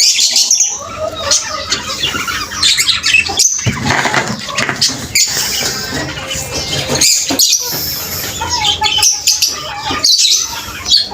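Pigeons cooing and calling in a loft, a busy mix of close, loud coos, chirps and squawks with wing flutters, overlapping irregularly throughout.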